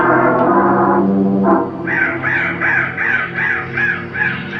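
A crow caws in a rapid series of about seven harsh calls, following a low droning musical tone, loud and close in an eerie soundscape.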